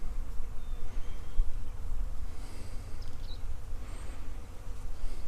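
Bees buzz around blooming plum trees in a food forest garden, a steady faint hum of insects with outdoor ambience throughout.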